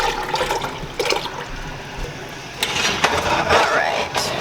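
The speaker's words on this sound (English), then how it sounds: "We are going to add in all of the blueberry juice that drained off" Blueberry juice poured into a syrup mixture for preserves: a sustained, splashing liquid stream with gurgles and clinks, close by, while a person speaks.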